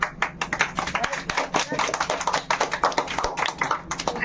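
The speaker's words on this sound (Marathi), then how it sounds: "आपण त्या सर्वांसाठी एक टाळ्या होऊ द्या" Group applause for children up to fifth and sixth grade who took part in a home Ganesh Chaturthi drawing competition, steady dense clapping from a small crowd throughout, with some voices mixed in.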